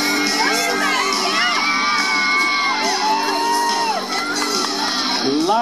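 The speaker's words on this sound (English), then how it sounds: "Lots of noise and lots of people in here." A crowd at a rodeo cheering, whooping and shouting loudly and continuously, many high excited voices overlapping in a dense, close roar.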